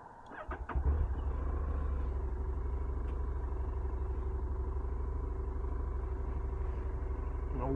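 A Honda NC750X motorcycle cranks and fires, then settles straight into a steady, close, rumbling idle that holds evenly to the end.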